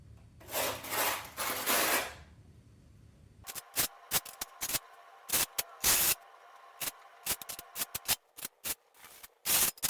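A trowel scrapes thin-set mortar over an uncoupling membrane while large-format tile is being laid. A long raspy stretch is followed by many short, sharp scraping strokes, all close and loud.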